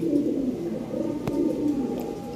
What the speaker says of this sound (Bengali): হাই কোয়ালিটি কবুতর।